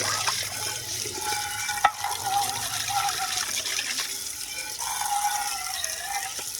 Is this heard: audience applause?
no